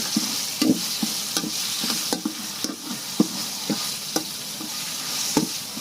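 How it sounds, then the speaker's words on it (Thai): Red curry paste sizzles in hot oil in a pan for a Thai bamboo-shoot curry, with a steady frying hiss broken by repeated scraping stirs of a spatula, close and clear with no talk. "ถ้าหาเอาเครื่องแกง พัดใส่น้ำมันซะก่อนจังค่อยใส่กะทิเนาะค่ะ"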